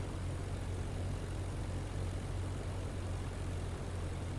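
A propeller airplane engine in the IL-2 Flying Circus flight sim drones steadily with a low, rumbling hum and broadband wind noise, constant in level with no voices.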